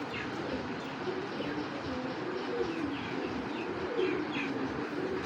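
Pigeons coo softly among green pigeons of an old local breed, with scattered chirps over a steady background murmur, continuous through the scene.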